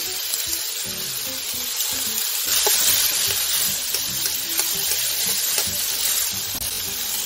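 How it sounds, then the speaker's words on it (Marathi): Steady hissing sizzle of garlic cloves and whole spices frying in hot oil with onion and tomato, continuous throughout, with faint clinks and stirring sounds. "टोमॅटो आणि कांदा फ्राय झालेला आहे चांगल्या प्रकारे"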